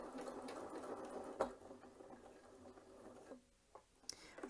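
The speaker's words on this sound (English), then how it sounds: "and it will sew the bar tack." A Janome C30 sewing machine stitches a bar tack on a buttonhole, a quiet close mechanical whirr with rapid needle patter that pauses briefly near the end, no talking.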